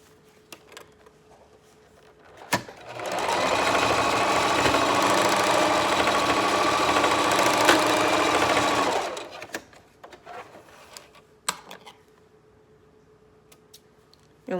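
Sewing machine straight stitching fabric for a two-piece bikini, a steady rapid whirring run of about six seconds with quiet handling clicks before and after.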